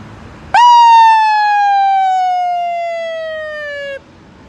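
A single loud, sustained wail, sliding slowly downward in pitch for a few seconds before cutting off abruptly; a voice imitating an ambulance and police siren.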